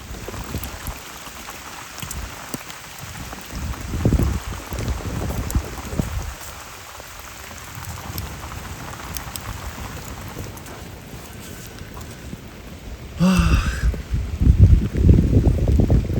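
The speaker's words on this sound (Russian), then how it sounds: "Опять дождь пошел." Rain falls steadily and patters on a raft, swelling into heavier bursts at times, with a brief sharp knock near the end.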